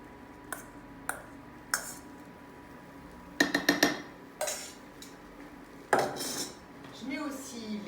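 Orecchiette puttanesca mixture with olives goes into a sauté pan, heard as a scatter of sharp metallic clinks and scrapes of utensil on pan, several quick knocks clustered midway, with no talk.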